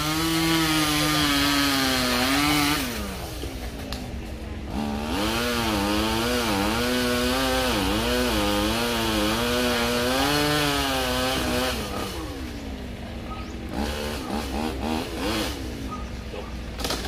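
A chainsaw drones steadily with its pitch rising and falling as it bites into a tree, continuing for a long stretch without talk.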